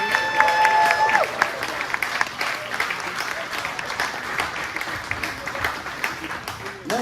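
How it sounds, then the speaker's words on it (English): A concert audience at a tribute show breaks into a big round of applause right after a sustained musical note ends, a continuous, rippling clapping of many hands that keeps going for several seconds, fairly close and full. "Another big round of applause, please."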